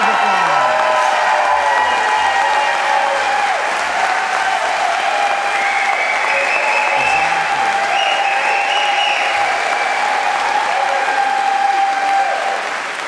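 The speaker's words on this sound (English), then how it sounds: "Can you help me give him a huge round of applause?" Sustained loud applause from a large audience at a concert in St Anne's Episcopal Church, Annapolis, continuous clapping with scattered cheers and whoops throughout.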